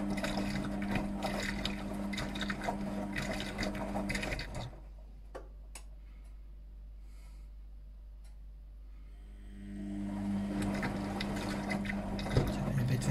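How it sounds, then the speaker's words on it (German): A Beko washing machine pumps water out on the final spin of a bedding wash with liquid detergent, giving a steady close mechanical whir and hum that stops midway, leaving a few soft clicks in near silence, then starts up again. "das ist jetzt der letzte Spin Wash beim Abpumpen"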